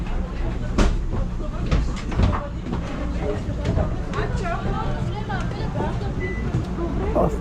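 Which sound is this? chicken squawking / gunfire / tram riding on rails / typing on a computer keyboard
tram riding on rails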